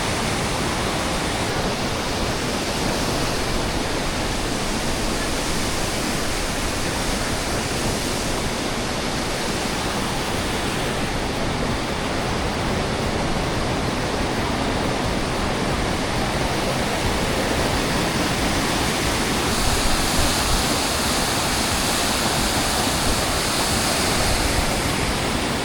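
Kumrat waterfall in the mountains of Pakistan roaring with heavy water flow, a continuous broadband rush that stays loud and unchanging throughout, with no voices.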